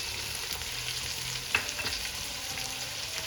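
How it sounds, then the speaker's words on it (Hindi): Ajwain seeds frying in oil for a fish head curry, a soft steady sizzle with a sharp clink and a few scrapes of stirring in the middle, heard close and without voices. "अब इसको आप 2 मिनट तक भूनेंगे।"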